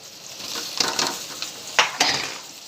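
Potatoes being added to fried onions in a pan, a soft sizzle broken by a few clinks and scrapes of a spoon against the pan, near and fairly loud, no talking.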